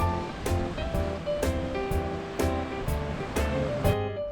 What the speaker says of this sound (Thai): เดี๋ยวให้เพื่อนๆฟังเสียงคลื่นกันหน่อยเนาะ